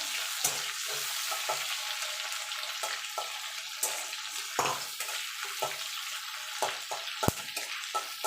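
Chopped garlic and three slit green chillies fry in hot oil with a tempering of spices, giving a steady close sizzle broken by sharp, scattered pops and crackles, with no talking.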